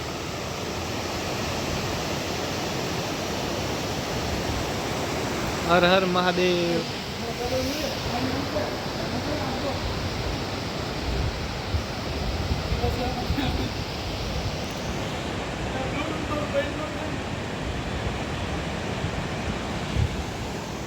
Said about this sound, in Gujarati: તો એ પાણી જ પડે છે. અત્યારે પાણી ચાલુ છે.